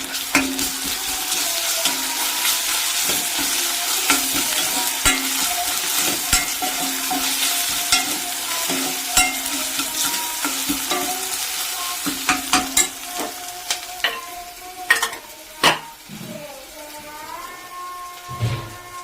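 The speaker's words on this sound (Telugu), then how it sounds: "దీంట్లో అల్లం పేస్ట్ తెచ్చాను కదా, ఇదైతే వేసేస్తాను." Sliced onions and ginger paste frying in a pan in a village kitchen, a steady close sizzle with frequent scraping stirs that become sharper, sparser clacks toward the end, without talk.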